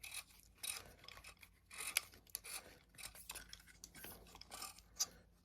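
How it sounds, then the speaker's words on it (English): Delta ring on a rebuilt Palmetto State Armory AR-15 upper being unscrewed by hand, giving a series of light metallic rasping and scraping bursts at close range, quiet and irregular, with no talking. "I'm literally screwing my delta ring off"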